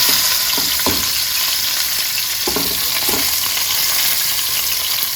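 Oxtail browning in hot oil, a steady close sizzle with a few stirring scrapes and clacks of a utensil in the pan, no voices.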